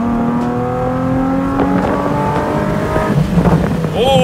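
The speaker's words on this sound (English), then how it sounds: "that backfire was sick" A Nissan 370Z with a modified exhaust revs hard, its engine note climbing steadily before a few quick crackling backfire pops break through near the end.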